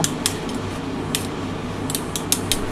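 Two eggs with salt are beaten in a bowl, a quick series of light metallic clinks and scrapes from a utensil against the bowl, close and fairly soft over a steady background hum.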